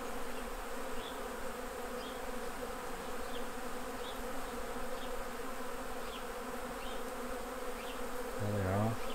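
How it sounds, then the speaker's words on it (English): Honey bees buzz around empty hive frames put back out by a beekeeper after a honey harvest, a steady dense drone of many insects with individual bees whizzing past close by, and no voices. "all buzzing around the empty frames."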